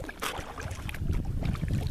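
A kayak paddled on shallow Lower Myakka Lake in the Myakka Wilderness Preserve on a breezy day, with soft splashing strokes and water movement under steady wind noise, close and continuous.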